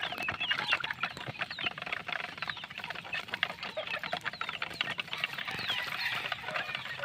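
Young pet chicks at feeding time make a dense, continuous chorus of high peeping chirps alongside rapid pecking and scratching, close by and steady throughout with no voices.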